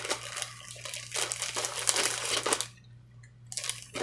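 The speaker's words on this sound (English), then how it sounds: "I'm going to put items in the Ziploc bag" A plastic Ziploc bag crinkles as items are packed into it for shipping, with continuous close rustling and crackling for a couple of seconds, then a brief pause before more crinkling resumes.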